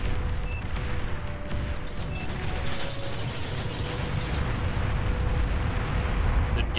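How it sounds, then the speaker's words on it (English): Bombing run explosions in a real-time strategy game on the map Erebos Lakes, a continuous rumbling barrage of blasts with mechanical clatter, steady and dense throughout. "Bombing run coming in here."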